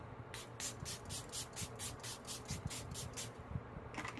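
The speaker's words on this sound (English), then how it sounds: "we're going to go in with our setting spray" A makeup setting spray hisses in a quick series of about a dozen short, evenly spaced pumps, close and fairly soft, with a last burst after a brief pause.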